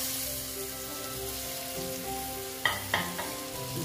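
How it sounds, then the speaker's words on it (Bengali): Spice paste with chopped tomato frying in a pan, giving a steady, moderate sizzle. A few sharp scrapes of a stirring spoon come near the end. "দিয়ে আবার আমি এটা ভালো মতন ভেজে নেব মশলাটা"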